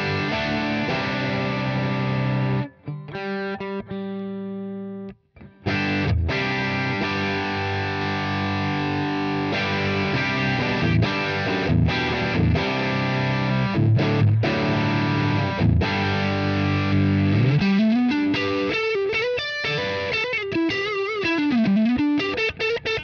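Electric guitar played through a Gig Rig pedal board on an overdrive setting, loud and continuous with sustained distorted chords, two brief cutouts early on, and bending, wavering notes near the end.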